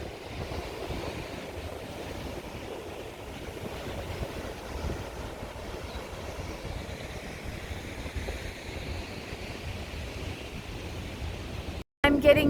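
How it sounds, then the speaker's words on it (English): Ocean waves wash steadily against rocky shoreline, a constant broadband roar with wind buffeting the microphone throughout, ending in a brief dropout and a sharp knock. "the sound of the ocean"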